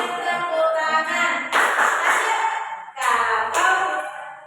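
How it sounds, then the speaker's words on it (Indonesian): Children clap their hands along to the Malay action song "Kalau Kau Suka Hati," a few sharp clap bursts in time with the tune while sung melody carries on around them. "Kalau kau suka hati tepuk tangan"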